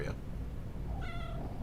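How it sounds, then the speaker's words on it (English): A kitten gives a short, clear meow near the end, close by, above a low murmuring background. "Kitten's also a talker, so you might hear her just randomly meow."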